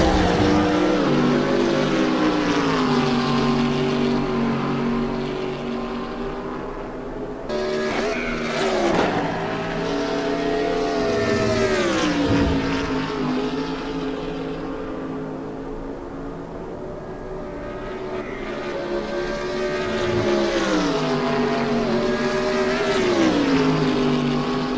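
A BMW race car lapping Mugello in a sim racing game: a continuous engine whine rising and falling through upshifts and downshifts, with several cars audible and a brief gear-change break partway through, loud throughout.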